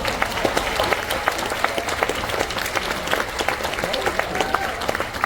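Audience aboard a cruise ship claps after a headliner show in the onboard theatre, a thick, continuous wash of applause with sharp individual claps popping out, while a voice speaks over it.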